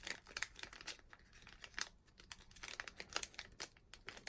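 Paper being folded and creased into an origami crane, a close run of crisp crinkles and sharp rustling bursts with brief pauses, fairly quiet and with no talking.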